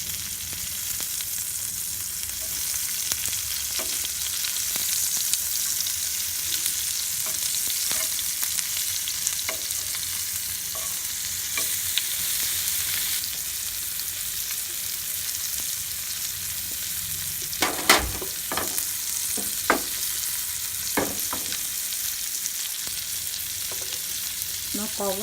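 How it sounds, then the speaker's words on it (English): Big prawns fry in a pan with a steady, dense sizzle that runs unbroken and fairly loud, joined near the end by a few sharp scraping clicks as they are turned. "flip your prawn"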